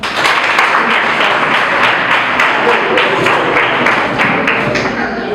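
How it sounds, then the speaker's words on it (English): Pupils and guests at a nursery and primary boarding school debate in Bushenyi give a thick, continuous round of applause, with scattered louder slaps and thumps standing out from the steady clatter. "Let's give another hand clap."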